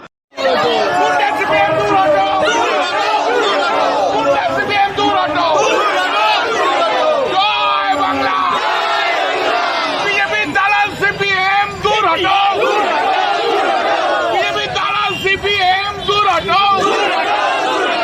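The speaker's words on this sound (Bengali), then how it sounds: "পাল্টা স্লোগানের সুর চড়ে সিপিআইএম পক্ষ থেকেও।" Rival CPIM and TMC party workers chant competing election slogans at a Lok Sabha campaign face-off, a loud, dense mass of shouting voices that stays continuous and unbroken throughout.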